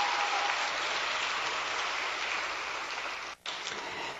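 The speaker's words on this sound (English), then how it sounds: "A round of applause for Professor." Audience applause for a professor being welcomed at a school-wide event, a steady dense wash of clapping that holds at even loudness and cuts out briefly near the end before resuming.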